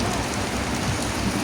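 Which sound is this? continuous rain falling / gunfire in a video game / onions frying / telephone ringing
continuous rain falling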